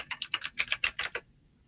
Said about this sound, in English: So then you have to hear the clickety-clackety of my keyboard